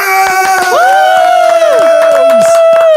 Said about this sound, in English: please make some noise and give a resounding round of applause to our special guest for today, Adeola Kingsley-James!